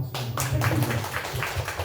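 An audience at a live literary talk event claps briefly, a short burst of scattered applause.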